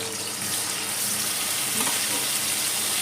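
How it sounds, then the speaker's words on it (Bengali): Fish frying one piece at a time in hot oil, a dense, even hiss and crackle filling the whole stretch, close and steady with no talk. "তেলটা আমার গরম হয়ে গেছে এবার মাছগুলো এক এক করে ভেজে নেবো"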